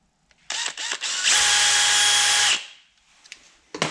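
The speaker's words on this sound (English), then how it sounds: "I'm just gonna drill a small little hole there where I mark those holes" A power drill gives a few short whirring bursts, then one sustained high whine as it bores a small hole in a plastic speaker mount inside a Ford Fiesta front door, then stops.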